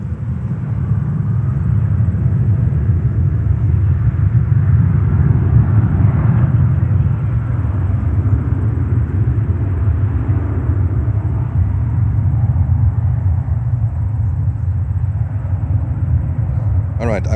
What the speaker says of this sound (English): takeoff with Uzbekistan Airways, heading back to Tashkent